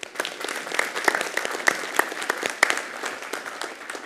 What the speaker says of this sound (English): Let's have a round of applause for these guys.